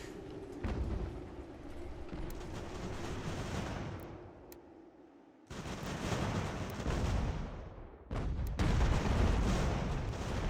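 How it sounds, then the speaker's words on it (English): Heavy booming blasts of cannon fire during a fort assault in the game Ultimate General: American Revolution, several rumbling explosions with sharp cracks layered over a continuous low roar, loud and close. "they got a lot of cannons, clearly. Tons of cannons."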